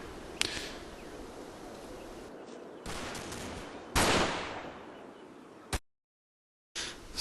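Combat Mission video game gunfire during a Market Garden hedgerow fight: several sharp distant rifle and machine-gun cracks ring out over a low battlefield hiss, with one louder burst and a brief dropout of silence.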